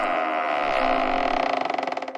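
A house door creaks open as a horror-story sound effect: one long, loud, grinding creak that breaks into rapid ratcheting pulses as it ends.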